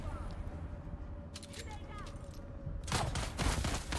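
Bursts of gunfire in the video game Dune Awakening, a rapid volley crackling under excited talk and game sounds, growing louder and denser toward the end.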